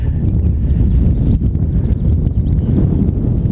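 Strong wind buffets a microphone at a wild camp with a tarp shelter, a loud, continuous low rumble with gusty fluctuations and no pauses.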